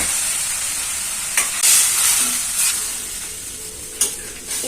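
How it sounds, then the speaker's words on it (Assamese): Ginger-garlic paste fries in a wok for a chicken dish, giving a steady close sizzle with a few brief louder bursts as it is stirred. "কেৰাহীত দি দিছো। এইখিনি ভালকে ভাজি লম এতিয়া।"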